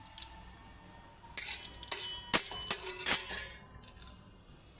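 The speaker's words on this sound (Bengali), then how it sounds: "তো তালের আইসক্রিম বানানোর জন্য আমি আগে এটা শুকনো ভেজে নেব।" Ingredients dry roasted with cardamom in a pan for palm ice cream, a metal spoon scraping and clinking against the pan in several close, bright strokes over a low steady hiss.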